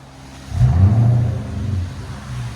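A Lexus LS460 4.6L V8 with a muffler delete and Dynomax race bullets revs once, a deep low exhaust rumble swelling from idle, holding, then easing back to a throaty idle nearby.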